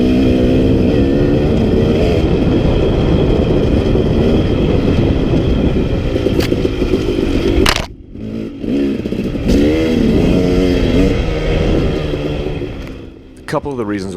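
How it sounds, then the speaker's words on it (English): Loud, steady engine drone from a 2017 KTM 250 XC two-stroke dirt bike, buzzing continuously before a brief dip around the middle, then resuming with rising and falling pitch; voices talk over part of it. "this bike will rev out and just sing on top"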